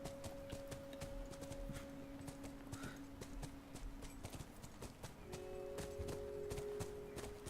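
Horse hooves clip-clop at a steady walking pace in The Last of Us video game, with a continuous sustained tone running underneath the hoofbeats.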